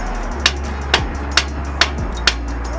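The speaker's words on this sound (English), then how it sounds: "Hit it from the bottom." Hammer blows on a punch driven up from below to line up a leaf-spring suspension part on a Nissan Xterra, five sharp metallic strikes at an even pace over a low steady engine-like hum.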